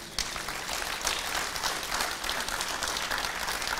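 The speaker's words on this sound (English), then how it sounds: "Somebody give them a round of applause." A church congregation applauds: steady, dense clapping from a full room, loud and continuous throughout with no talk over it.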